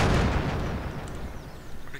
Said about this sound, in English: pray to God that you don't die from the explosion.